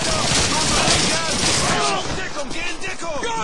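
Rapid gunfire from Call of Duty 2 crackles in dense bursts within loud, constant battle noise as a player talks over the action.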